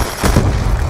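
A concussion grenade going off in the Black Ops 2 video game, a short heavy boom with a low rumbling tail, loud and close against dense in-game noise, no talk during the blast.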